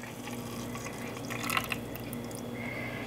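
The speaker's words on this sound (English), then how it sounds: "I'm rinsing the blender and adding the rest." Blender rinse water for ginger water pours and trickles into a container with light splashing and dripping, fairly quiet, with a steady background hum.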